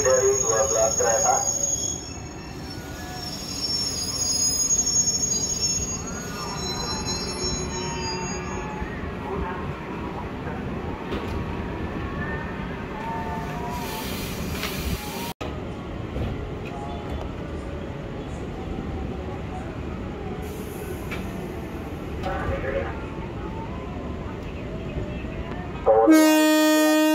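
A 12-car KRL Commuter Line train bound for Bogor rolls into Manggarai station on track 12 during rush hour, wheels rumbling and squealing at length, while a station announcement plays and a horn sounds at the end.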